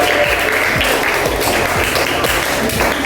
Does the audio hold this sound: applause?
yes